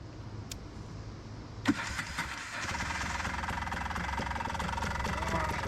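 A 1985 Honda Odyssey 350 FL350R off-road buggy engine cranks with a sharp catch, then fires and settles into a steady, close idle that runs continuously.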